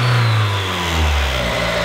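A car engine revving loudly and steadily at close range on its first drive after a repair, with rising and falling pitch and no talk.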